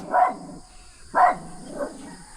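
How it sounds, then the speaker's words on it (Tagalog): A dog barks three times in quick succession, close and fairly loud, with short quiet gaps between the barks. "May aso."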